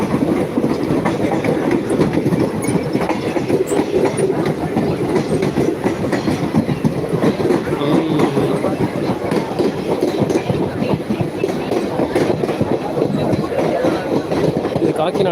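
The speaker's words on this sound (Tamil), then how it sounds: "இந்த ட்ரெயின் இந்த பக்கம் வந்துச்சு, இது கிளம்பிடுச்சு." A train pulls away past a level crossing that has been blocked for it. Its wheels clack steadily and loudly over the rails throughout, with faint voices mixed into the rumble.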